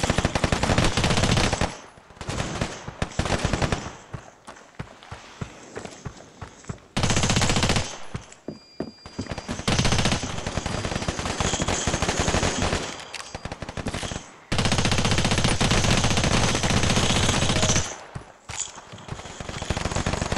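Automatic gunfire from the mobile shooter game Standoff 2: loud, rapid bursts of shots separated by short pauses, repeated across the clip with no talk.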